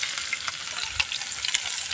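Onions and curry leaves frying in a pan for a drumstick-flower side dish, a steady close sizzle with light crackles and faint stirring scrapes, no voices.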